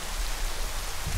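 Rain falls as a steady, dense hiss across the whole stretch, with a low rumble near the end.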